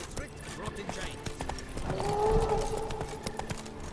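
Roach, the horse in The Witcher 3: Blood and Wine, clip-clops along in a steady hoof rhythm, with a brief whinny partway through and voices talking over it.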